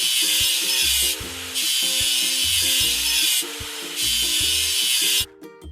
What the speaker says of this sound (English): Drag the grinder over the stain and clean the rust.